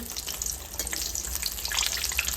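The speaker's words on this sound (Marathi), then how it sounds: "लो फ्लेमवरच आपल्याला भजी तळून घ्यायची आहे" Tomato bhaji (veg pakoda) deep-fry in oil over a low flame with a steady, dense sizzle and crackle throughout, loud and close.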